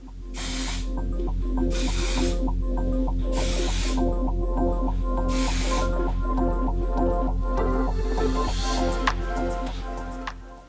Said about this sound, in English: It's the Sephora Hair Texturizing Spray.